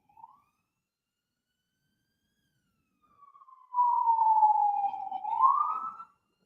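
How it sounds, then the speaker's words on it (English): A single emergency siren wails briefly after a silence, its tone sliding down and then rising again before it cuts off, heard alone and at moderate distance. "Oh, the sirens."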